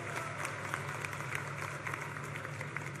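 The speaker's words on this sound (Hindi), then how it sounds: "ताली बजाओ निरंजन भाई के लिए" A large crowd at an Adivasi community conference in Saraipali claps in sustained, dense applause. The clapping is a steady crackle that carries on evenly throughout without breaks.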